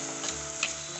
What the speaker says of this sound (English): mix well and saute nicely